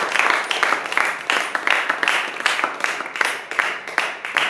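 A church congregation claps together in a sustained, rhythmic burst of applause during a Hindi-language sermon, the claps loud and close, no talk over them.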